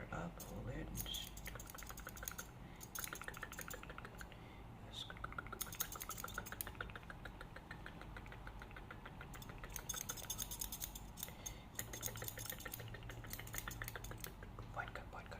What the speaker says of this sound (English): I'm just gonna grab each strand and point cut into that